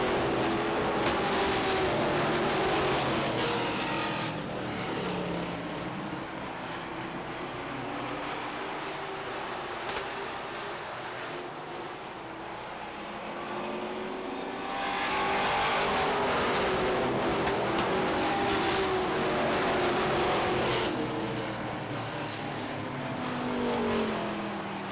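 Stock race cars roar around Beech Ridge Motor Speedway during a 1992 weekly race, their engines a loud continuous drone that swells as the pack sweeps past and fades between passes.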